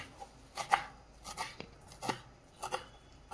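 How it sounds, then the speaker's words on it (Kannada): Amaranth greens (dantina soppu) being cut into small pieces with a knife, giving sparse, irregular sharp chops on a board with soft pauses between strokes, close by. "ನೋಡ್ರಿ, ಈ ರೀತಿ ಚಿಕ್ಕಕ್ಕೆ ಕಟ್ ಮಾಡ್ಕೊಳ್ಳಿ"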